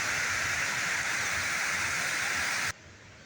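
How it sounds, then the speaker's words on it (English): High water rushes in a loud, steady, unbroken roar that stops abruptly near the end. "Yep, the water's high today"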